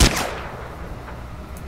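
Gunfire in a video game, one loud shot at the start with a long echoing tail that fades, then another sharp shot at the very end.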